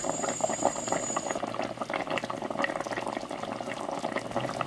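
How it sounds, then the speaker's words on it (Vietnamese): A pot of Vietnamese pork belly stew bubbles and simmers steadily after more than an hour of braising, a close, continuous crackle of popping bubbles. "Nồi thịt hầm của mình đã được 1 tiếng 15 phút rồi các bạn."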